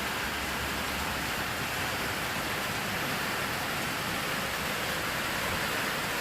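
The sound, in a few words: rain falling on a cool rainy day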